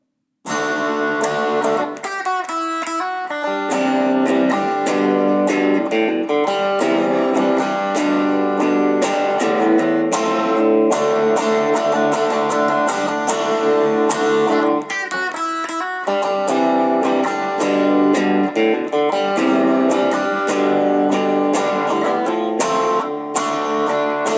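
A guitar plays the verse of a song, strummed and picked chords ringing out at steady loudness with bright sustained tones, a few short breaks, and no talking.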